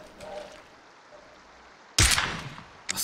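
A quiet stretch of faint background noise, then a sudden loud burst of PUBG gunfire near the end, with another shot starting just before it cuts off.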